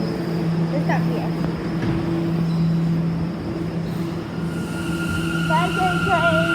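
A train rumbles past with a steady low hum and metallic tonal whine, wheel squeals and brake tones rising toward the end, continuous and fairly close.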